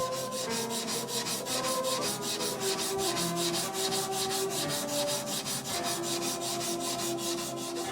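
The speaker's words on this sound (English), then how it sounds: "During the final stage of polishing, the subtle features of the blade's steel emerge" A katana blade being polished on a sharpening stone in the final stage: steady, rapid back-and-forth rubbing strokes in a close, even rhythm, sustained throughout with no talking.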